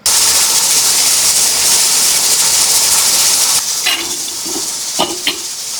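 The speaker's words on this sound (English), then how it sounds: "This first canner has been releasing steam for 10 minutes now" A pressure canner full of quart jars of black bean soup vents steam in a steady, loud hiss. Near the end the hiss drops away and a few clinks and knocks follow.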